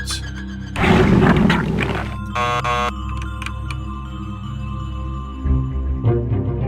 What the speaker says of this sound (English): I don't know why it beeped at me.